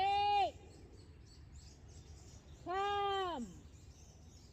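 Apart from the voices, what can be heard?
birds calling outdoors while a dog bothers them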